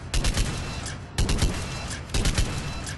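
Three bursts of Argus rifle fire from Mass Effect 3, each a tight cluster of rapid shots about a second apart, loud and close with no talking.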